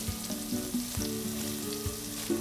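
Salmon fries in oil in a pan like a steak, a steady close sizzle with crackling pops and the occasional clink of a spoon basting oil over the top.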